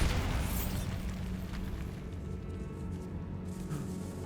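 Bombarda blasting spell in the Hogwarts Legacy video game, a loud close explosion that opens the moment and then holds as a dense, roaring rumble with scattered debris.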